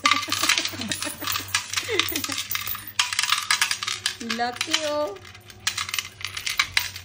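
Coins clink and rattle as they are dropped into a piggy bank, a quick run of bright metallic hits repeating close by under ongoing talk.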